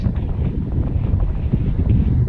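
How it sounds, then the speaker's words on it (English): Strong wind roars steadily across a foggy mountain summit in chilly air, a dense, continuous low rumble of gusts buffeting the microphone with no pauses and no talking. "The wind is absolutely blasting"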